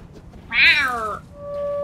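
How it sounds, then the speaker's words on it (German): A cat's meow from the survival video game Don't Starve Together, one loud drawn-out call that rises then slides downward, followed by a thin steady electronic tone, with no talking. "Das ist, das ist definitiv eine Katze."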